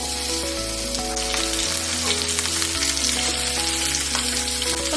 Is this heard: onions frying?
yes